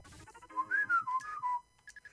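Someone whistles a short wavering melody, fairly close and alone, sliding between pitches before a few clipped higher notes at the end.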